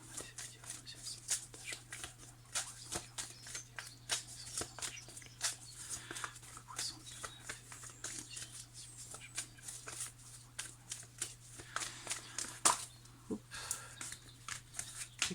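Tarot cards shuffled by hand in a quiet room, a steady run of soft papery riffles and flicks with occasional sharper snaps as cards jump out, over a low constant hum.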